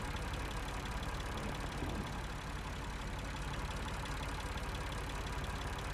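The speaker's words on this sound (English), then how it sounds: "Must be the generator." A generator engine in the video game Lost Horizon drones steadily, a constant mechanical hum with a faint rhythmic chug, running alone without pause.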